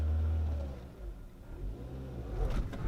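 A manual car's engine revs as a learner driver feeds in gas while working the clutch, a steady close engine drone that rises and falls over a few seconds with no talk.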